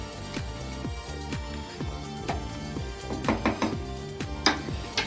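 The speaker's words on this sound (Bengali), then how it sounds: "ভালো করে একটু নেড়ে মিশিয়ে দিচ্ছি।" Lentil and bottle gourd curry being stirred in a pot, a spoon scraping and knocking rhythmically against the metal, each stroke ringing briefly, fairly close and steady with a few sharper clinks near the end.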